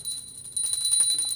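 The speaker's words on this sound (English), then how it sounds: "Please take the bell in your left hand and ring it loudly along with the mantra." A ritual brass hand bell rung during a Hindu puja, giving a steady, bright, high ringing tone that sustains throughout and swells slightly partway through, fairly faint and with no voices.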